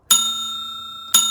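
A bright electronic bell ding rings twice, each strike clear and sustained with a ringing tone, about a second apart, isolated and fairly loud.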